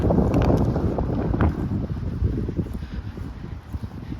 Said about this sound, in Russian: Ледяной ветер.